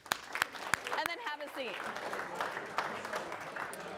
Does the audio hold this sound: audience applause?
yes